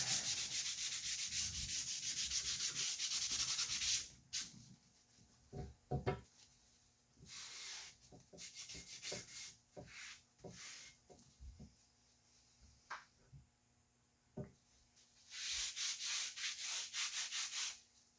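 Rust being rubbed down on a very rusty jointer after an Evapo-Rust treatment: several seconds of steady abrasive scrubbing, then short scattered scrapes and knocks, and another sustained rubbing burst near the end, all close and without talk.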